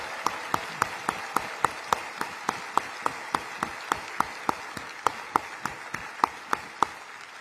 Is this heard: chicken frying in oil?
no